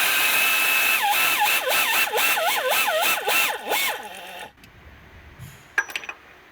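A power tool whines and pulses in rapid bursts while an engine pulley comes off during timing belt work, then the noise cuts to quiet with a few faint clanks.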